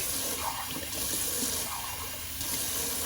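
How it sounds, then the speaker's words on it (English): Cold water running steadily from a bathroom tap into a sink during a shaving session, a constant close hiss and splash with no talking. "little cold water rinse"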